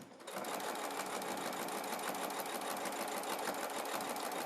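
A sewing machine runs steadily as it stitches binding onto the raw edges of a triangle quilt at a quarter-inch seam, a continuous close whir after a brief start with no talking.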